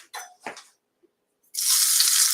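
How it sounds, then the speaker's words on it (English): Finely minced ingredients hit hot olive oil in a pan and sizzle loudly and steadily, following a few quieter clinks and kitchen handling noises. "And you can hear it sizzle."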